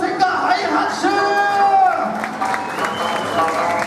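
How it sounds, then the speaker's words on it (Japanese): A crowd at an Okinawan wedding-entertainment contest held in a shopping mall applauds and cheers loudly, with voices whooping and calling out over the clapping throughout. "はい、拍手。"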